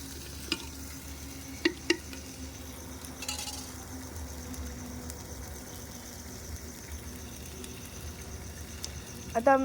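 A spoon stirs food in a hot pan on a home stove while it sizzles softly, with a few faint clinks against the pan and a quiet, steady background.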